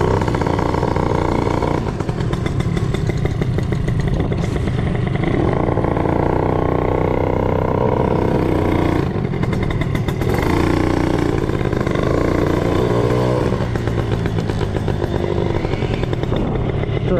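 A Simson scooter engine runs steadily nearby, its exhaust putting out a continuous buzzy rumble with slight changes in pitch.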